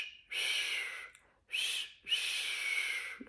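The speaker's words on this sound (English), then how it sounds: "I hope you're having good luck whistling today." Someone whistles three airy, breathy notes in a row with short pauses between, the last one the longest, sounding close and fairly quiet.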